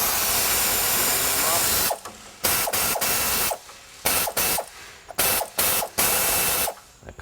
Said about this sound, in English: it's a 22 millimeter ratchet box.